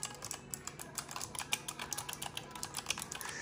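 Fast typing on a Razer Huntsman Elite mechanical keyboard at a home desk, a quick, irregular stream of crisp clicky keystrokes heard up close with no voices.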